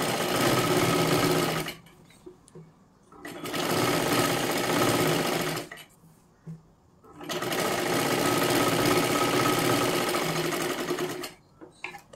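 A sewing machine stitches a katori blouse in three long, steady motor-driven runs, loud and close, separated by short pauses with faint handling noise.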